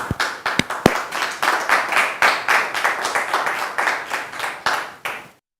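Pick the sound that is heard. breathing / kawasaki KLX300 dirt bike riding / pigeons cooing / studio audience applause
studio audience applause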